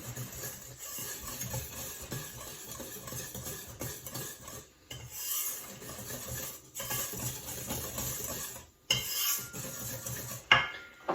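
A whisk stirs sugar and salt into flour in a bowl, giving steady soft scraping and rustling strokes with light clinks against the bowl, faint and continuous.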